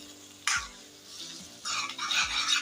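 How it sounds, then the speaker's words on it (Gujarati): A ladle stirs thick vadi curry gravy in a pot, with two short scraping bursts of stirring and a soft background simmer in between. "હવે એકવાર આપણે ચમચાને સરસથી હલાવી લઈશું"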